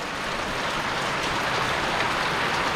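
A steady roar of heavy rain pours down without pause, broad and even, with no voices over it.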